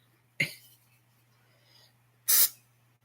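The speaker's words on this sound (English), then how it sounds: "I'm going to spray it. So you got to really spray it" Two short hissing spray bursts from an aerosol cooking spray can onto a waffle maker, close up, separated by a pause of nearly two seconds.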